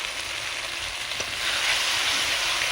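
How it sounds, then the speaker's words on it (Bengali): Masala spice paste frying in oil for a spicy chicken liver and gizzard curry, a dense, continuous close-up sizzle that swells slightly partway through, with faint stirring and no voices. "লাল লাল করে এইভাবে মশলাটা আমাকে কষে নিতে হবে"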